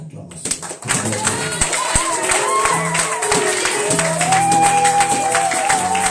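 A church congregation applauds and cheers during a service, dense clapping and crowd noise mixed with voices and tonal sounds throughout.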